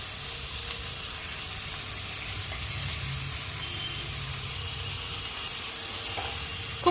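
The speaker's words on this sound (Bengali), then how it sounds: "চাল দিয়ে খুব ভালো করে এবার নেড়ে নেব" Soaked and dried Gobindobhog rice is fried and stirred in a pan, giving a continuous, even sizzling hiss close by with a few soft scrapes of stirring and a small clatter at the end.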